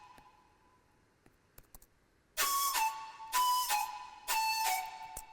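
Serum synth notes stepping up in pitch with no glide between them, three loud bright sustained bursts separated by short gaps, following a quiet stretch with faint clicks.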